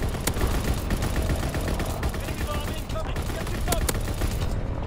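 Rapid, sustained automatic fire from a ball turret machine gun in a video game battle, loud and dense throughout with a few sharper cracks standing out.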